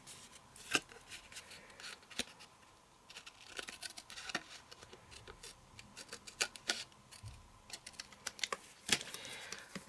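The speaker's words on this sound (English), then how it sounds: "use your scissors to cut along that line" Scissors cutting paper along a marked line for a Christmas fold craft, a faint series of irregular snips and rustles with scattered small ticks, close and quiet.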